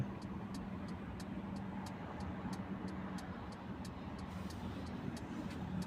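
Steady car engine and road rumble while driving along a Hong Kong highway, continuous and even throughout, with faint regular ticking like an indicator over the top.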